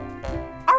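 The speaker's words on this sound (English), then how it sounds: "this is my best dog, Stormy Jane" A dog, a female, gives a short bark or yip near the end, after a brief low rumble, close and fairly loud in an indoor setting.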